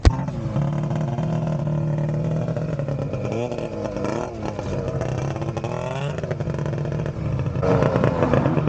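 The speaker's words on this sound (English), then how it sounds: "Looks like we're taking the sled out, boys." A snowmobile engine runs and revs up and down, a loud, continuous close-up motor drone with rising and falling pitch and no talking.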